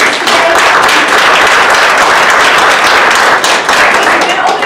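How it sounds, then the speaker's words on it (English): Sustained round of audience applause at a smart growth summit panel on water and infrastructure, dense loud clapping from many hands filling the room steadily without a break. "Can we give a round of applause to our speakers today?"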